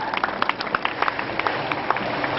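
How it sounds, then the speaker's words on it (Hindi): A school audience at a mother-language day event claps for the Bengali group, a dense, steady patter of many hands heard from within the room. "हाँ, इनके लिए भी एक जोरदार तालियां हो जाएं।"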